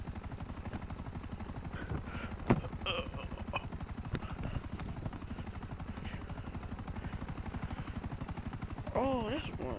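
A helicopter in the GTA video game gives a steady, rhythmic rotor thump throughout, mixed with scattered game gunfire and a few sharp hits.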